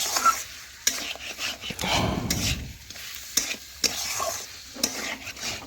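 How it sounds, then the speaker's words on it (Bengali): Chicken with Kashmiri chili powder stirred in a pan for lemon chicken, repeated spatula scrapes and knocks against the pan at uneven intervals over a low sizzle, with a thicker rasping stir in the middle, close and without speech. "এখন ভালোভাবে নাড়াচাড়া করে চিকেনের সাথে কাশ্মীরি লঙ্কা গুঁড়ো"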